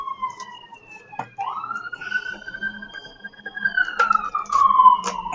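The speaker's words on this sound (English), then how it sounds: "Oh, ambulance." An ambulance siren wails, rising and falling in long sweeps as it passes nearby, growing louder toward the end.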